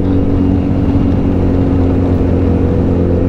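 Several KTM Super Duke 990 motorcycles ride a coast road near Greenock, with a steady loud engine drone and wind rush throughout, no talking.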